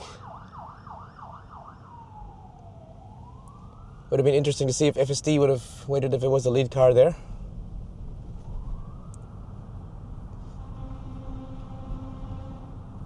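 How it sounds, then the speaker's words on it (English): A fire truck's wailing siren sweeps up and down, then yelps, growing louder as it nears before fading to a steady tone; someone talks over it in a car in central Auckland. "It's a fire truck."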